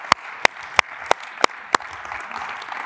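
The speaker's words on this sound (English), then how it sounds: "please have an applause for" At a basketball coaching clinic, a few sharp, separate claps ring out in an even rhythm, about six distinct hand claps close by, fading into quiet room noise rather than building into full applause.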